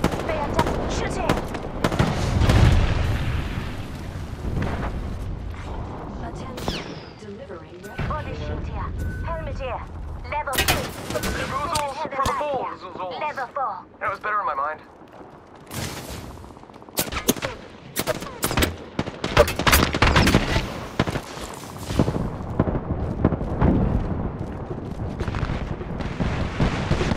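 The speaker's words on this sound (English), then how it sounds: "Getting shot at!" Shooter video game gunfight with bursts of gunshots and rapid automatic fire, loud and close, with pauses between volleys while a voice talks over the action.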